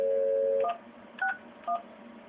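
Telephone keypad tones on an Asterisk phone system: a steady tone cuts off, then three short dialing beeps follow at even intervals over a faint background hum.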